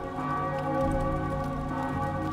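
Church bells ring out in the Hellboy: The Science of Evil video game, a loud sustained metallic tolling with layered lingering overtones and a renewed strike partway through.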